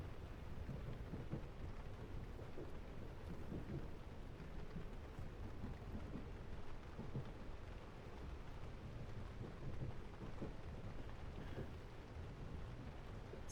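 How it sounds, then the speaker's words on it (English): Steady rain falls with a constant broadband hiss, and low rumbles of thunder roll underneath throughout. "train sounds and rain for sleep."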